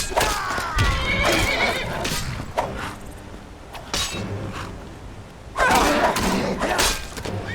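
Horses in Skyrim whinny loudly and repeatedly, in close bursts. Heavy thuds and clattering hooves land between the cries, with no talking.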